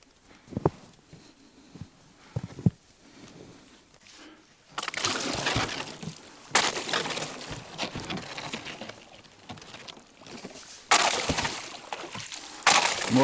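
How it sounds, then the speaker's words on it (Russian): Footsteps crunch and crack through thin breaking ice and snow on a taiga river in autumn, starting as sparse faint steps, then turning into louder sustained crunching and splintering bursts close by. "Вот что значит через лед пробираться."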